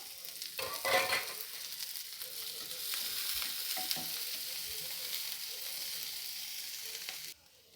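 Chopped onion with cinnamon, cloves and fennel frying in oil, a steady close sizzle with stirring scrapes early on, ending abruptly, no speech.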